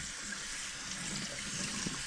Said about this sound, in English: Drain those and rinse them off.